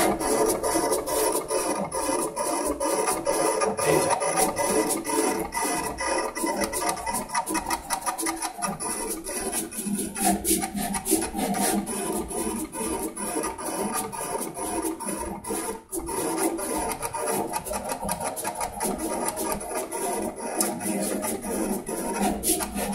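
A Summa S2 T75 vinyl cutter slices small instrument gauges for an RC model, giving a continuous dense scraping and rubbing drone with rapid ticking blade strokes, close and steady throughout with no talk.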